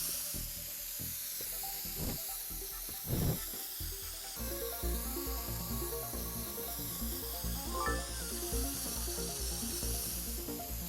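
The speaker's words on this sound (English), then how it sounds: "You should paint both the outside and the inside with the spray can." A spray can paints a boat in the video game Teardown, giving a continuous airy hiss that runs steadily through the whole stretch with only slight swells, and no one speaks.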